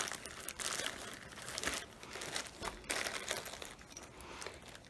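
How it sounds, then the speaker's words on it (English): A pair of shoes slides into a handmade fabric travel shoe bag, producing soft, continuous rustling and crinkling with small scuffs, quiet and close. "I have my pair of shoes and I just slide it in"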